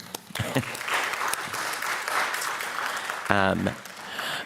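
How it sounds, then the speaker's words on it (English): An audience claps steadily in a warm burst of applause, with a brief voice cutting through near the end. "So let's clap for them."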